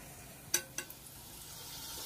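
Sliced onions and green chillies frying in oil with shahjeera, a faint steady sizzle that slowly swells, broken near the start by a couple of small sharp clicks as the pan is stirred.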